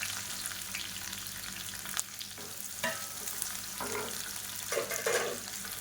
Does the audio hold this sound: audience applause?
no